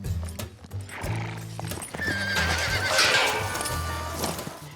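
A young horse on an Alabama ranch gives a loud shrill neigh while hooves clip-clop and thud close by in an uneven rhythm.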